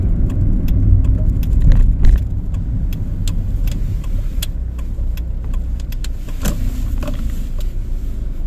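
A car being parked, its engine giving a steady close rumble throughout with scattered faint clicks and knocks.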